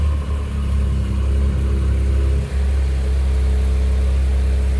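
A Porsche GT3 engine runs with a steady low, loud rumble throughout, a brief dip near the middle, no talking.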